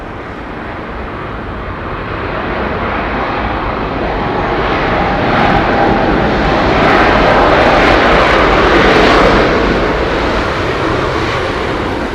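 A Vistara Boeing 787 Dreamliner passing at London Heathrow Airport, a loud, broad jet roar that swells gradually over about twelve seconds, peaking late before easing, with no talk over it.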